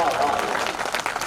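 Audience applause at a Hindi kavi sammelan poetry recital, a short steady burst of clapping with some voices mixed in.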